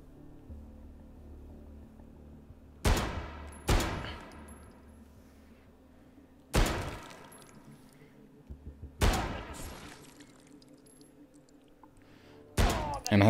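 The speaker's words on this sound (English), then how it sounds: "Did they just give me a deagle? Yes, 357 Magnum." Desert Eagle .357 Magnum pistol fired in a video game: five heavy, booming single shots spaced irregularly over several seconds, each with a long ringing tail, loud and close with a quieter game soundscape between.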